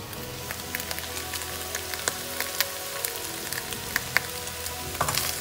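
Minced garlic and meat mixture for lasagne frying in a pan, a steady close sizzle and crackle with scattered sharper pops running throughout, no talking.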